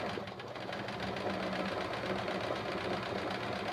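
A sewing machine runs steadily through free motion quilting blocks, its needle making a fast even chatter at moderate volume, alone with no talking.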